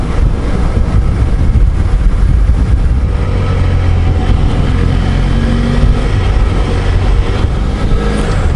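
A motorcycle rides along at road speed and eases off to slow for a speed camera, its engine and wind noise a loud, continuous low rumble throughout with no voices.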